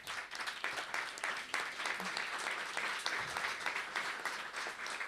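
Audience at the opening of the exhibition "Galaxia Borges: Museo de la eternidad" clapping continuously, a moderately faint, steady wash of applause that is heard alone.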